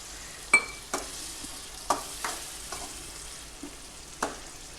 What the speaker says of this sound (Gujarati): હવે આપણે થોડુંક પાણી નાખશું એટલે ટમેટા ન બળે